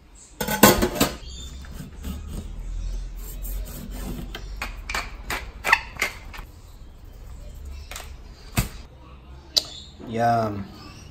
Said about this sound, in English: So we're just gonna gut and scale him